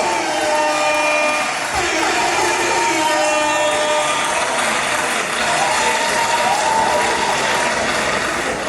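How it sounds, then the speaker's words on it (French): Loud, continuous applause and cheering from a gala crowd at a Haut Nkam Canada evening, with whoops and voices mixed into the dense clapping throughout. "Vos acclamations, s'il vous plaît."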